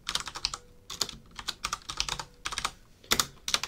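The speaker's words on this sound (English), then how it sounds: "let me just type that out." Typing on a computer keyboard during a livestream giveaway: close, fairly quiet clusters of clicky keystrokes tapping out in quick bursts with short pauses between them, with no one speaking.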